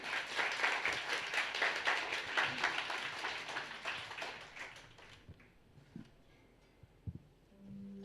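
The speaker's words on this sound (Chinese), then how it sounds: "用掌声来欢迎我们的方瑜。" Church congregation applauding during a Sunday service to welcome a graduate, a full round of clapping that fades out after about five seconds, leaving a quiet room with a few soft knocks.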